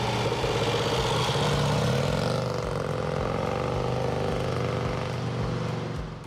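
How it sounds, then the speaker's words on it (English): A Vincent Black Shadow 998cc V-twin motorcycle runs with a steady, deep, throbbing engine rumble, loud and continuous throughout, easing slightly at the end. "The Black Shadow's sound is really iconic, a wild, deep, authoritative rumble that's instantly recognizable."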